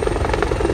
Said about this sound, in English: He's spraying her down so the helicopter doesn't sink